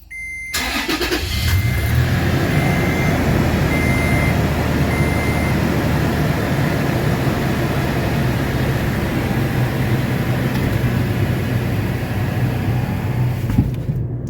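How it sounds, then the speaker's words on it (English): A Toyota FJ Cruiser or 4Runner engine cranks and catches after a second, then settles into a steady, loud idle that hums on without a break. "we're going to start the engine."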